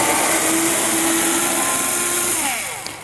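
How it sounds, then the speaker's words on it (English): Electric screwdriver fitted with a Torx bit backing screws out of a Flymo lawnmower, a close, continuous high motor whine that runs unbroken and tapers off near the end. "So I'm just going to swap over to a Torx bit on my screwdriver."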